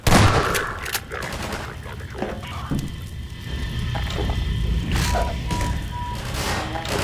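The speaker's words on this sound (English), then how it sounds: "Still more shooting at me" Enemy gunfire in the video game MINERVA: Metastasis, loud and dense, with repeated bursts of shots over a steady mechanical background running through the whole stretch.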